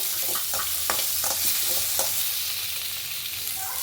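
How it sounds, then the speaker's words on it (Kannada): Onion, garlic, ginger and tomato sizzle in a little oil, a dense close hiss broken early on by several soft scraping stirs of a spoon, with the frying continuing steadily and no one talking. "ಈರುಳ್ಳಿ ಬೆಳ್ಳುಳ್ಳಿ ಶುಂಠಿ ಟಮಟ ಹಾಕಿ ಸ್ವಲ್ಪ ಎಣ್ಣೆಯಲ್ಲಿ ಫ್ರೈ ಮಾಡಿಕೊಂಡು"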